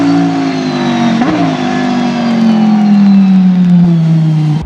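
Audi R8 LMS Ultra GT3 race car from the first-generation R8, its 570 horsepower engine roaring loud and close in a sustained high drone that dips in pitch as it eases off.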